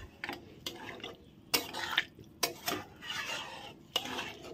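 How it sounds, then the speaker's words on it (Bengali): Boiled potato being mashed into a soybean curry in a cooking pot, heard as several scraping, stirring strokes of a utensil against the pot with short clinks, close and alone with no talking. "এখন একটু আমি আলু চটকিয়ে দেবো।"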